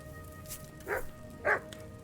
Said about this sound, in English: Get out of here, mutts! No one wants to hear your barking.